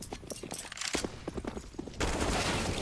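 Bursts of AK-47 fire in a Counter-Strike esports match, heard as rapid cracking shots in short strings, followed by a denser wash of gunfire and game noise toward the end.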